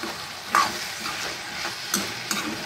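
A spoon stirs potato and spinach curry in a pan over gentle sizzling, with a few distinct scrapes against the metal, close and fairly loud.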